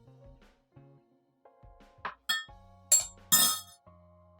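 Spoon clinking against a glass while stirring salted caramel iced coffee, a series of bright chinks growing louder toward the end, with quieter knocks and handling sounds between them, close by and with no talk.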